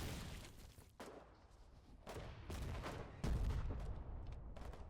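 Artillery firing in the Foxhole war game, a run of booming shots and thumping impacts in steady succession over dense rumbling battle noise, loud and close, with no talk heard.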